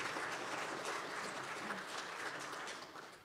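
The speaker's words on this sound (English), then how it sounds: "let's give the Wrights a good round of applause" A church congregation at a morning worship service gives a round of applause for a couple expecting a baby, a steady, fairly faint wash of clapping that tapers off near the end.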